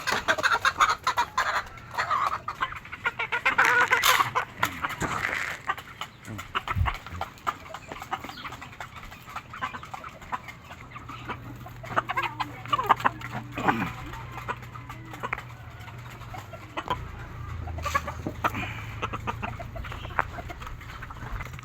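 Chickens clucking in a farmyard, irregular calls scattered through the clip over a busy background, with occasional louder close squawks and some other farm noise.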